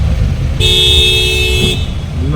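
City road traffic under a steady low rumble of engines, with one car horn blaring clearly for about a second in the middle and a faint start of another honk at the end.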